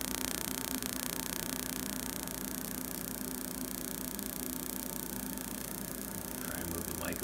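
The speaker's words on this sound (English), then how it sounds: "I don't know if you can pick up that tone as opposed to just that arcing sound." Electrical arcing jumps between Red Bull cans on a 50 kV supply, a loud, steady buzzing hiss with a sustained humming tone running through it for the whole stretch.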